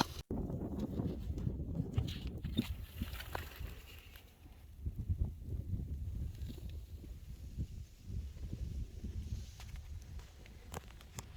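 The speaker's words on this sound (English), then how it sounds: "the wind is blowing from out here directly into this field" Wind gusting across an open field beside a pond and cornfield, rumbling against the microphone in steady low buffets with occasional rustles and footsteps, alongside faint talking.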